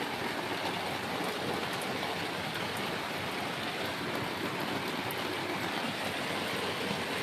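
A night downpour roars steadily, a thick, unbroken wash of heavy rain noise that holds at an even level from start to finish, with no one talking.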